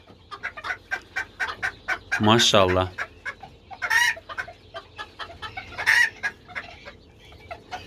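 A rooster pecks greedily at an onion salad, producing a rapid run of sharp taps along with clucks. One loud drawn-out squawk rises above the pecking and a few shorter calls follow, all close by. A person says a single word.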